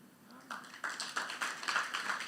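A small sermon audience clapping, the applause starting sparse and building into a quick, uneven patter of hand claps.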